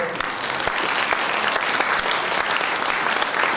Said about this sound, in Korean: 저 효자에게 큰 박수 한번